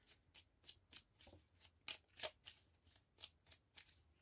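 Tarot cards being shuffled by hand in about a dozen quick, evenly spaced riffling bursts, soft and close, with no talk over them.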